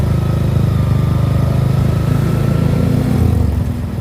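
Several motorcycle engines drone and rev nearby in street traffic in the rain, a steady loud rumble with the pitch shifting as they move.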